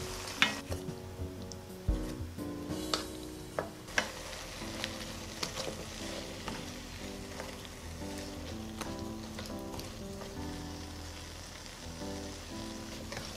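Lotus root braises in sauce in a pan over low heat, giving a faint, steady bubbling simmer with soft clicks and occasional light taps of a utensil.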